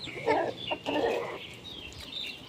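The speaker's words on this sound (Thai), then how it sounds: "นี่คือไก่" A chicken clucks close by in a few short, throaty bursts, with quiet background around it.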